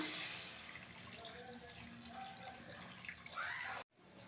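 Tamarind water pours and splashes steadily into a cooking pot, fairly quiet and close, ending abruptly.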